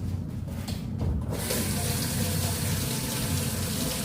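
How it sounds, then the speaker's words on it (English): Cold tap water runs steadily into a sink while items are rinsed under it, a continuous close splashing gush that swells after the first second and holds at an even level. "So now let's rinse everything off with nice cold water."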